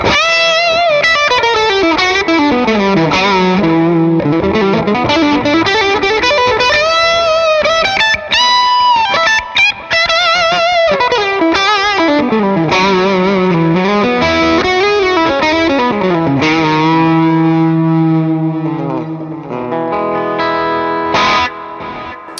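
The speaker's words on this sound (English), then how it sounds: "Les Paul sounds really great through this rig. It can really cut through and just rock out really nice." A Les Paul electric guitar through a distortion rig plays a continuous lead line with bends and sustained notes, loud and saturated, with no voices.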